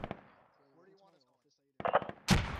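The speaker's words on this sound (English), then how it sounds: "throwing a grenade close" A grenade detonating close by in the tactical shooter Squad: a sharp, loud blast near the end, just after a dense burst of gunfire-like cracks following a quieter stretch.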